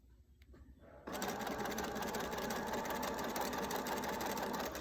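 A sewing machine stitching a French seam starts after a second of quiet handling, then runs as a steady, fast mechanical whir with rapid needle ticking, close and even.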